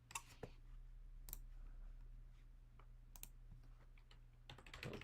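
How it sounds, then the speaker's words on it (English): Keys tapped on a computer keyboard while a course name is entered during an app tutorial: a handful of sparse, crisp keystrokes spread out over a steady low hum. "Type in the course name."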